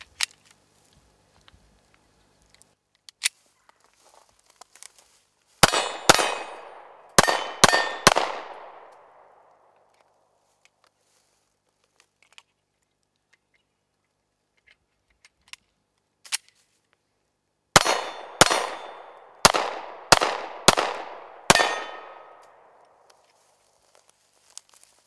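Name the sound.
Glock 43 9mm pistol shots hitting steel target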